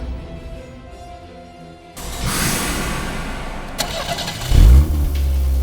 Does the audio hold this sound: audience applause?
no